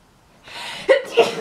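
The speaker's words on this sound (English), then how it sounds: "Oh, I need to sneeze." A single loud, close sneeze from a person, a quick inhaled build-up followed by two sharp explosive bursts.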